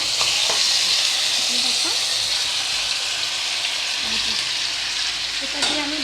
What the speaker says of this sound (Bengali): এই যে আমার ম্যারিনেট করে রাখা ছিল চিকেনটাকে, এটাকে আমি পুরোটা দিয়ে দিচ্ছি